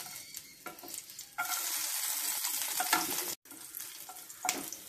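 Ginger and garlic frying in hot coconut oil in a pan, a close crackling sizzle with stirring scrapes, swelling louder midway, briefly cutting out, then resuming.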